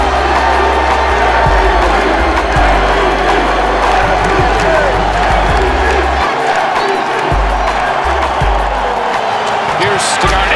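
Sellout crowd at a Boston Celtics basketball game against the Hawks roaring and cheering continuously, loud and dense throughout, with a commentator's voice over the noise.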